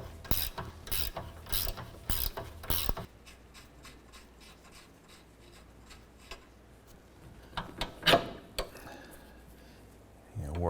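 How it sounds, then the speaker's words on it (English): A ratchet clicks in quick bursts while loosening a rust-penetrated rear strut nut on a 2008–2012 Honda Accord, followed by quieter clicks and a few metallic clanks. "Let's go ahead and loosen this nut."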